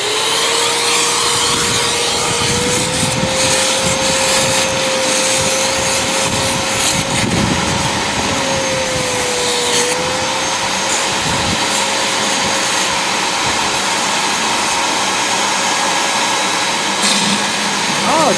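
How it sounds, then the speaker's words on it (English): A vacuum runs steadily while sucking debris out of a pool skimmer during a spring pool opening, its motor a loud continuous drone with a slightly wavering whine throughout. "Now hopefully there's enough chooch left in the vacuum to suck this up."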